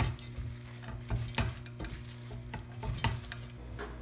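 Butter and almonds being stirred into cooked brown rice in a pan, with a spoon scraping and clacking against the pan in irregular bursts over a soft sizzle and a low steady hum.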